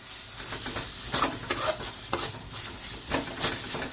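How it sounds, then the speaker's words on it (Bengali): Whole spices sizzle and fry in hot oil for Bengali eggplant bharta, with a steady crackle broken by several sharp stirring scrapes and clinks of a utensil against the pan, close and moderately loud. "এবার এই সমস্ত মশলাগুলোকে আমরা একই প্রসেস ভালো করে ভেজে নেব"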